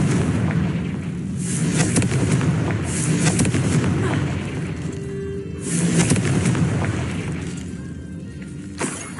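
The Confringo explosive spell goes off in the Hogwarts Legacy video game: loud booming blasts with crackling debris, two main bursts separated by a short lull amid ongoing game noise.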